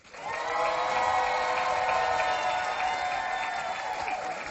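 An audience at a live session breaks into sustained applause, steady and dense for several seconds at a fairly loud level with mixed crowd noise underneath.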